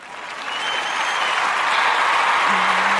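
An audience at a live talk show welcomes an author with applause that swells over the first second into a full, steady ovation, close and loud, with a brief tonal hum near the end.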